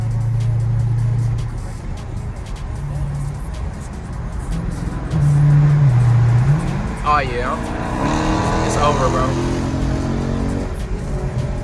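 A Dodge 392 Hemi Scat Pack V8 revs and accelerates in a tunnel, its deep roar echoing, swelling and shifting pitch, with someone speaking briefly over it.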